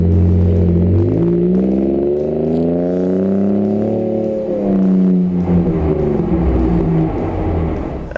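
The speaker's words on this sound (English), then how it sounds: "now you're getting that turbo sound, which in my opinion makes up for it" A 2017 Ford F-150 Raptor with a turbocharged engine accelerates hard from inside the cab, its loud droning note climbing through the gears with a shift around midway, alone and close.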